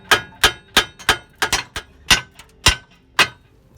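Metal-on-metal tapping against a Hyundai Sonata front ball joint to separate it during a wheel bearing replacement: about a dozen sharp, ringing hammer strikes in an uneven rhythm, close and loud, with no talking.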